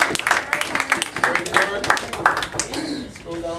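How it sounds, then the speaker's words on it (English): Clapping from a school assembly audience for a teacher, a burst of claps with voices mixed in over it, fairly close and lively. "Let's give her a round of applause,"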